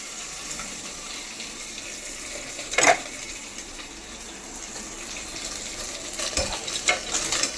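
Green chillies, garlic and peanuts frying in oil under a lid, a soft steady sizzle with occasional stirring clatters and a couple of sharper bursts, no talk.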